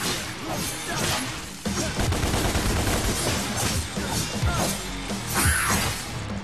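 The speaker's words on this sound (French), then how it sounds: "Je tire dans le vide, c'est fabuleux." Gunfire in the DmC Devil May Cry video game: rapid, loud bursts of shots mixed with crashing impacts and whooshing swings, continuous and dense throughout.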